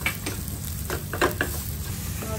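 Curry leaves, green chilies, turmeric and Kashmiri red chili powder sizzle in hot oil for a Kerala-style pomfret curry tempering, a close, steady crackle with a few sharp spatters and light utensil clinks.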